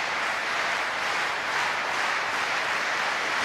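A packed stadium crowd at a Commonwealth Games women's long jump final claps along in unison, blurring into a dense, steady, loud roar with no pauses and no clear individual claps.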